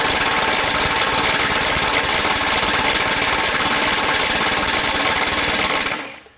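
A Kobalt XTR 24V high-torque impact wrench hammering at 400 foot-pounds in speed 1, a loud, continuous rattling impact that runs steadily for about six seconds and then cuts off abruptly, with no talking.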